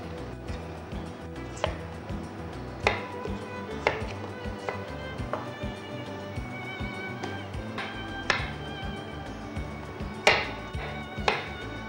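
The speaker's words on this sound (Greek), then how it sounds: "Κόβουμε σε φετούλες." A knife chops potatoes into slices on a board while preparing fish soup, giving a sparse, irregular series of sharp taps over a steady low kitchen background.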